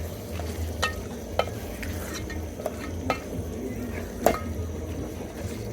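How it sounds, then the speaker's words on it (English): Beef stew meat is stirred in a pan over a low, constant sizzle, with a spoon scraping and knocking against the pan every second or so. "So you make sure you stir very well so that it doesn't stick on the pan."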